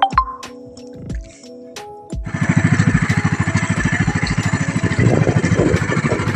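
A fishing boat's engine knocks into life after a few clunks, then runs with a loud, rapid, even chugging pulse close by, rough and steady to the end.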